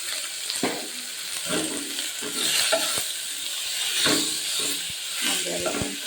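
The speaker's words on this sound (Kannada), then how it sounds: "ಒಂದು 2 ನಿಮಿಷ ಫ್ರೈ ಆದರೆ ಸಾಕು" Chopped tomato frying in a pan for rasam: a steady broadband sizzle with repeated stirring scrapes, while a voice talks quietly in the background.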